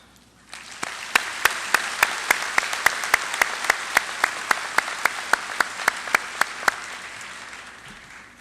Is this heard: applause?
yes